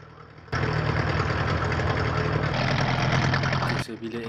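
A Yamaha Enduro 30HP two-stroke outboard motor catches and settles into a loud, steady, close idle with a rough rattling beat, then the level drops near the end.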